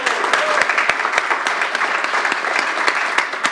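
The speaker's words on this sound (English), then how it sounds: "can we just do like another round of applause for those like introductions?" Sustained applause from a poetry event audience honoring the Poets Laureate of Missouri and Kansas, a dense steady patter of many hands with a few sharper individual claps standing out, loud and close throughout.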